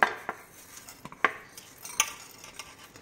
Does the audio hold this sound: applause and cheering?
no